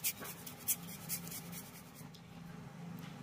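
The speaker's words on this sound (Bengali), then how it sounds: "এবার একটা গ্রেটারের সাহায্যে আলুটাকে গ্রেট করে নেব।" A peeled raw potato is scraped across a kitchen grater, making quiet, close, rhythmic rasping strokes that repeat steadily, with a few sharper scrapes near the start.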